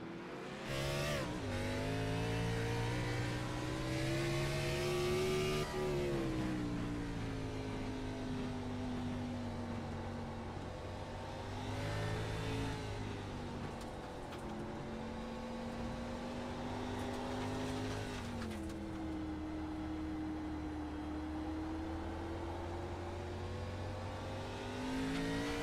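Onboard race car engine at Portland International Raceway during a BRRA Cup Series race, loud and continuous, rising and falling through gear changes and revving hard throughout.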